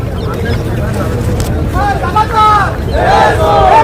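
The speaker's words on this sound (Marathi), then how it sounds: "भाई गर्दी बघा, त्याला म्हणतात गर्दी." A large crowd fills a creators' meetup in Worli with loud, continuous hubbub of overlapping voices, several people shouting and calling out close by over the general din.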